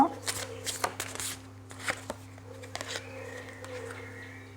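Oracle cards are shuffled during a card reading, giving a quick series of crisp riffling and flicking bursts that fade into soft handling. A voice can be heard in the background.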